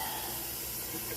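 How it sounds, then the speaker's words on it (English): A kitchen sink sprayer hisses out water to rinse cooked macaroni noodles in a colander, a steady soft spray running through the whole moment. "I'm just going to spray it with my sprayer and rinse off the noodles and everything"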